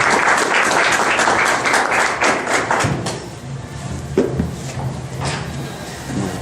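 An audience gives warm applause welcoming an instructor at an evening public lecture, with dense clapping at first that thins out into scattered claps and a few thuds.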